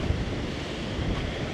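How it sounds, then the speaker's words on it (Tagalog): Ocean surf washing onto a beach at Boracay, a steady broadband roar of breaking waves mixed with wind buffeting the microphone, continuous and fairly loud throughout with no voices. "Grabe yung alon, no?"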